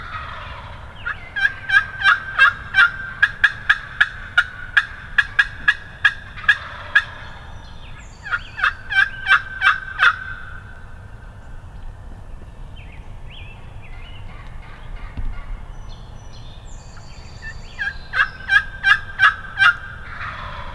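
Two wild turkey toms gobble in several rapid rattling bursts, fairly close, with pauses between calls and faint outdoor background noise on a spring morning in Michigan.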